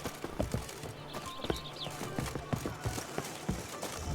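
Roach, a horse in The Witcher 3, galloping: rhythmic clip-clop hoofbeats at a steady pace, moderately close, with a faint whinny partway through.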